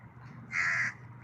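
A black crow caws outdoors near a fishing spot with nets, giving one harsh, drawn-out caw followed by the start of another at the very end, fairly close and alone.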